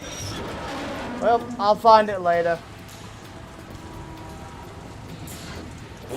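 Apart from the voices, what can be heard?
rain in video game Metal Gear Solid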